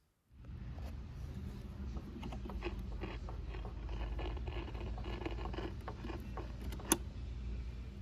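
A GE 40-channel CB radio base station puts out a steady low grinding, rumbling noise with faint scratchy crackles and one sharp click near the end, with no voices.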